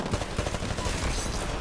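Rapid gunfire from the video game Titanfall, a dense continuous barrage of shots layered with game noise throughout.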